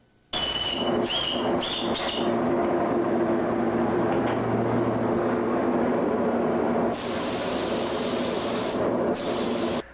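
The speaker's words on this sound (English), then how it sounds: "I'm going to mist it again with butyl Celasolve over a little bit wider area" A spray gun mists butyl Cellosolve solvent over lacquered guitar paint in a steady, loud, continuous hiss. Bursts of high-pitched air sputter at the start and again near the end.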